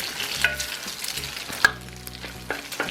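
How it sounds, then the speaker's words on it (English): Bacon and egg fried rice is stir-fried in a pan, a close sizzle punctuated by several sharp scrapes and knocks of the utensil against the pan, with no voices. "Stir fry them around a little bit."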